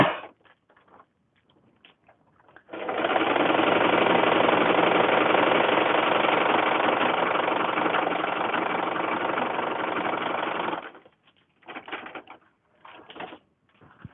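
A Singer Tradition sewing machine runs in one continuous burst of about eight seconds, a steady close mechanical whir with fast stitching vibration, preceded and followed by soft handling clicks and quiet.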